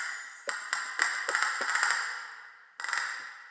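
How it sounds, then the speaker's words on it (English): Wind chimes from an orchestral sample library, a shimmering metallic cluster struck several times in quick succession, then again after a short pause, each strike ringing and decaying alone with no voices. "some wind chimes"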